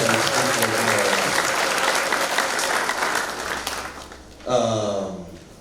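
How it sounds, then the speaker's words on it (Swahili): A church congregation claps loudly and densely for several seconds before the applause thins and fades, then a voice begins speaking over the dying claps. "Pigie Yesu makofi kabisa."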